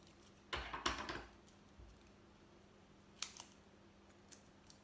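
Paper being snipped with scissors while a gift box is put together: a couple of close, crisp cuts near the start, followed by a few small, faint clicks and taps in a quiet room.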